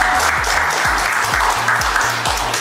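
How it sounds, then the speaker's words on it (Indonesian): An audience applauding at an academic collaboration event, steady dense clapping with a deep thumping beat in the background. "saya nak minta kita semua bagi tepukan yang paling gemuruh untuk Prof. Dato' Muhammad Idris."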